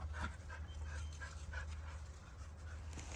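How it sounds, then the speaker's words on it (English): Ranch dogs sitting in a side-by-side utility vehicle pant in quick, steady breaths, near and fairly quiet over a low constant rumble, with a few soft whimpers mixed in. "Well, dogs, why are you staying in the side by side?"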